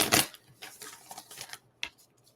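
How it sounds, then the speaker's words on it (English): Tarot cards shuffled by hand at close range: a sharp opening riffle followed by several softer, brief rustling bursts and a final quick snap, with quiet pauses between. "let's get a good shuffle in here"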